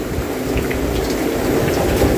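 Heavy rain pours steadily with wind roaring over it onto a nipa hut, a dense continuous hiss and low rumble drumming on a nearby surface.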